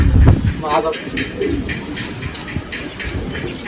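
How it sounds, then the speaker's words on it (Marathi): Pigeons coo and stir in a rooftop loft of newly bought racing pigeons, their soft calls close by and mixed with people talking over them. "नवीन आणलेले हवेचे कबूतर आहेत हे सगळे"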